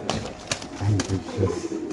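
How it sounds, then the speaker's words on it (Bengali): Pied pigeons at a pigeon farm coo in short, low throaty bursts, close by, with a few sharp flutters or clicks in between. "পাইট কবুতর, মাশাআল্লাহ, খুব সুন্দর।"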